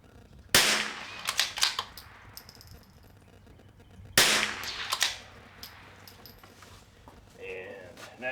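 Two sharp cracks from a Bergara B14R rimfire rifle fired at targets during a PRS rimfire match, each shot followed by faint ringing steel hits, with a few seconds of quiet between them.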